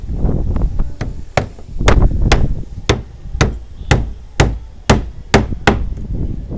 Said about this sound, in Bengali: এখানে একটা কাঠ ইয়ে হচ্ছে, এই যে এই যে এই যে পেরেক মার।